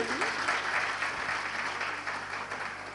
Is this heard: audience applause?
yes